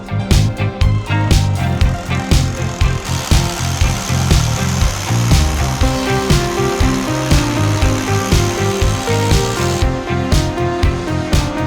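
Loud, continuous mechanical grinding and rattling from a drill boring into concrete, with rhythmic pulsing bursts throughout and no talking.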